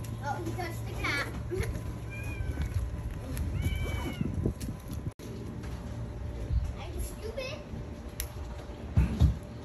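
A cat meows a few times in rising, wavering calls amid a lively crowd of children chattering and playing nearby on Tokashiki Island, with the voices largely covering the cat.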